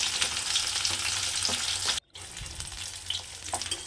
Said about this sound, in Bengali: তো দেখো আমি মাছগুলোকে ভেজে নিচ্ছি, হালকা করে ভেজে নেব, বেশি ভাজবো না।